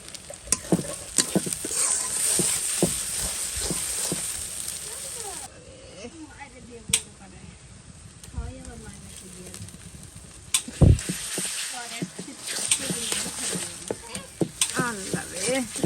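Chopped onions and garam masala frying in mustard oil, a steady sizzle broken by repeated scraping stirs and clinks of a utensil, with a quieter stretch in the middle before the frying noise returns strongly.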